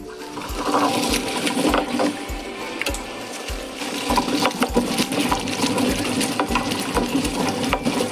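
Spice paste for a black pomfret curry whirs in a kitchen mixer grinder, a steady loud motor drone with rhythmic low knocks and rattles throughout, no speech.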